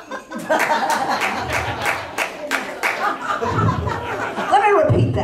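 Scattered clapping from a seniors' audience at a comedy show, sharp hand claps in the first seconds that thin out into chuckles and laughter, with a voice talking over the room.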